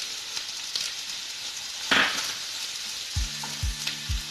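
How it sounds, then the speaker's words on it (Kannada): Chopped onion frying in oil with ginger and green chilli for potato bonda: a steady, close sizzle with a brief stirring scrape and a few light clinks near the end. "ಶುಂಠಿ ಮತ್ತು ಹಸಿಮೆಣಸಿನಕಾಯಿ 1 ನಿಮಿಷ ಹುರ್ಕೊಂಡ ನಂತರ ಸಣ್ಣ ಕಟ್ ಮಾಡಿಟ್ಕೊಂಡಿರೋ ಈರುಳ್ಳಿ"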